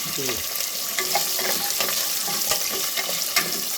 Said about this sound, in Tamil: சின்ன வெங்காயம், கருவேப்பிலை போட்டேன்.